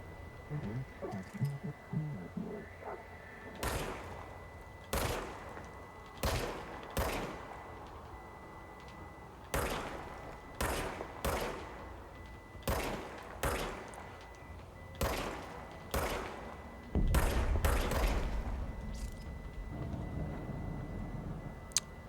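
Repeated gunshots from a player's weapon in the action video game Control, sharp loud bursts fired one at a time at irregular intervals over a steady ambient hum.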